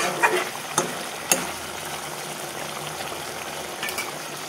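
Food fries in a pan during home cooking, giving a steady, close hiss of sizzling broken by a few sharp pops and crackles near the start.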